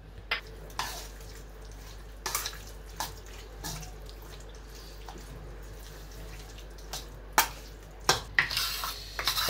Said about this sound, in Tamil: தயிரை மிக்ஸ் பண்ணிக்குவோம்